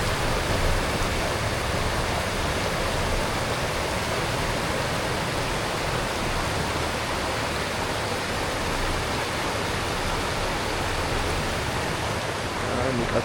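Small stream of water flowing on an off-road track through mud, a steady broadband rushing that stays even and close for the whole stretch, with no talk over it.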